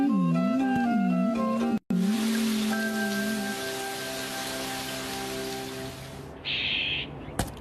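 Steady rain falls near a house in a cartoon scene, a broadband hiss continuing under music, with a brief dropout partway through and a brighter patch near the end.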